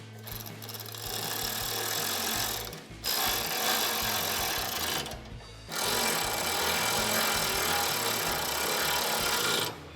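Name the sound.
tightening bumper bolts with an Allen socket and wrench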